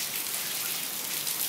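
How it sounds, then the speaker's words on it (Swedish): Steady rain falls outdoors somewhere abroad, a dense, even hiss of drops pattering on surfaces, constant and fairly close throughout with no voices. "Jag ville bara visa att det regnar faktiskt på andra platser också än i Sverige."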